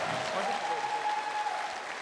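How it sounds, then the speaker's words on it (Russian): Faint, steady applause from an audience at a mixed martial arts event for fighter Denis Mager, heard from a distance for a couple of seconds with a thin tonal hum running beneath it. "Друзья, тогда поддержите аплодисментами Дениса Магера."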